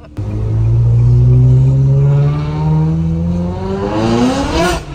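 A V8 supercar engine accelerating hard, its deep roar climbing steadily in pitch through the gears over five seconds, loud and close with no talking.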